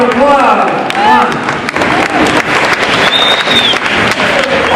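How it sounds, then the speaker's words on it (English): A crowd claps and cheers for a motivational speaker at Oglala Lakota College, loud broadband clapping with whistles and voices rising over it and a high whistle-like tone near the end. "Let's give a big round of applause."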